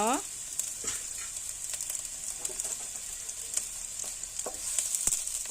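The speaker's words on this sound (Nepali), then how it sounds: "एकैछिन भुट्नुपर्छ प्याजलाई।" Onions sizzle quietly in hot oil with a steady crackling hiss and occasional light clicks, close up and with no talking.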